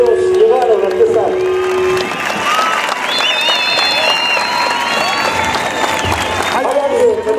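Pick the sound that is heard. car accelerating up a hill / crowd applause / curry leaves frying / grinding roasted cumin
crowd applause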